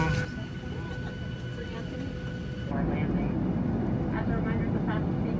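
Steady broadband engine roar inside an airplane cabin at boarding, rising slightly louder partway through, with faint chatter and cabin noise underneath.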